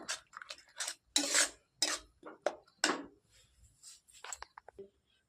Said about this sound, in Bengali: দুটা ডিম দিয়ে দেবো দিয়ে এটাকে ভালো করে নাড়িয়ে নেব এর সাথে ফেটিয়ে নেব